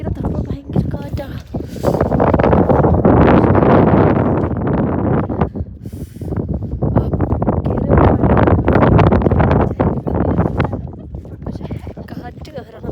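Strong, cold wind buffets the microphone on Applecross Pass in the Scottish Highlands during an NC500 road trip, a loud, continuous roar that swells and eases over the whole stretch, with voices talking through it.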